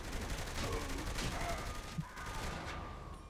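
Gunfire in the video game Saints Row 3 comes as a muffled, continuous rattle of shots under a dense background of game noise, fairly faint and steady throughout.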